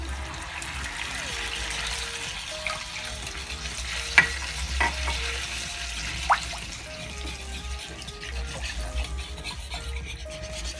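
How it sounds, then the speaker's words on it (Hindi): Chili garlic sauce with water added, stirred in a pan on the stove, giving a steady low sizzle with scraping stir sounds and a few sharp clinks of the utensil against the pan, with no talking. "अब जाएगा चिली गार्लिक सॉस में पानी,"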